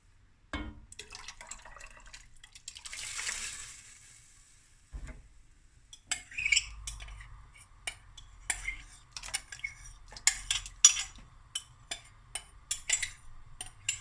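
A spoon stirs milk and sago in a cooking pot, making a quiet run of irregular clinks and scrapes against the metal, with soft liquid sloshing.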